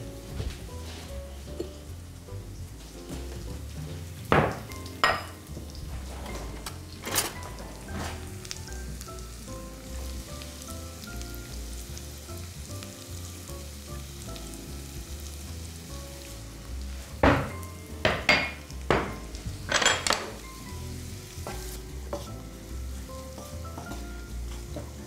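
Vegetables for a chebureki filling fry in a pan with a steady low sizzle, broken by several sharp crackles and pops in short clusters, close up and with no one talking.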